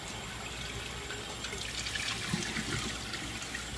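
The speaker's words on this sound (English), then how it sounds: "Some water, swish it around." Cold water with tomato seeds and pulp is swished around in a sifter, producing a faint, steady sloshing and trickling with small irregular splashes.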